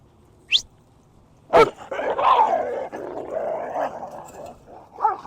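A Belgian Malinois growls and barks at another dog: a sharp yip, then a loud bark followed by a sustained rumbling growl several seconds long, ending with another bark, close and loud.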